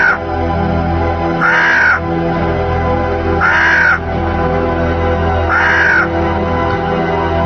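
A crow caws three times at roughly two-second intervals, loud and close, over a steady low background hum.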